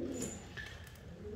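Soft pigeon coos at close range, a couple of short, muffled calls over a low background murmur.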